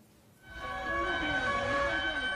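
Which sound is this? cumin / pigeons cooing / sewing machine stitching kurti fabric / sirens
sirens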